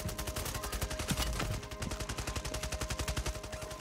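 Rapid, evenly spaced gunfire in the shooter Warzone, a dense steady rattle of many shots continuing throughout, loud and close with a constant tone underneath.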